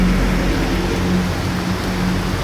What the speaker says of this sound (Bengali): আবার বিশাল ধরে ব্যাপক ধরে শুরু হয়ে গেল বৃষ্টি